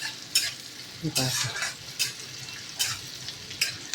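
Chopped vegetables, including capsicum, sizzle in hot oil for pav bhaji while a spoon stirs them, with soft steady frying broken by several sharp scraping strokes against the pan.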